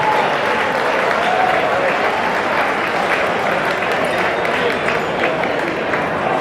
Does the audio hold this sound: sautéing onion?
no